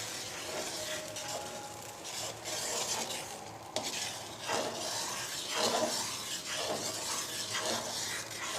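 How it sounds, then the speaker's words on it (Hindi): Makhandi halwa stirred and roasted in ghee: a spoon scrapes and rasps around the pan in repeated strokes over a steady background sizzle, with occasional clinks of metal and no talking. "बस इसको अब आपने चलाते जाना है और इसी में भूनना है इस तरह से"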